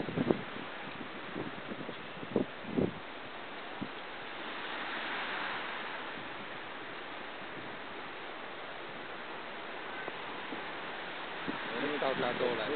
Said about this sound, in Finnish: Nyt alkaa tuuleen taas.